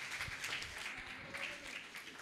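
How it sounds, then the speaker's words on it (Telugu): An audience claps at a church gospel revival meeting in Uppugunta village. The applause is faint and distant, a steady wash of many hands. "మరొకసారి ఆయనకి చప్పట్లతో మరి సంతోషాన్ని ఇద్దాం."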